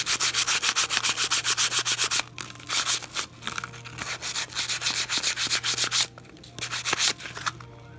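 Old Kawasaki brake shoes being scuffed by hand, a loud, close, rhythmic scraping in quick strokes with brief pauses between bursts.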